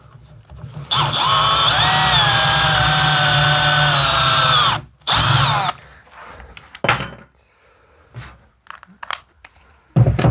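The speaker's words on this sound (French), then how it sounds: "Donc je vais d'abord pré-percer ici." Power drill pre-drilling holes into a tree branch for a lamp, one loud sustained whine with pitch shifts, then a short second burst and scattered handling knocks.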